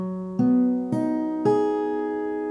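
An acoustic guitar minor 7th chord, fretted with one finger, strummed three times, each strum ringing out and sustaining softly into the next.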